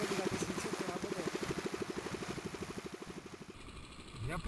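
An aeroboat engine idles on a frozen lake, giving a steady, rhythmic low chugging pulse that fades slightly, with some wind noise at the end.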